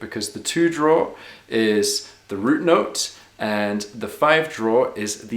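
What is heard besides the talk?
No everyday noises stand out.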